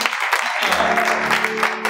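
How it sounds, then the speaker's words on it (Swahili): A crowd claps steadily in a dense patter of applause, with voices mixed in underneath. "Aya, wajipigia makofi DC."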